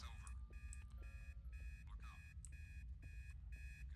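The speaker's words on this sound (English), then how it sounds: "there was a bug that you couldn't turn off this alarm clock" A video game alarm clock that cannot be switched off rings in quick repeated bursts of bright electronic beeping in an even rhythm over a low background rumble, fairly quiet overall.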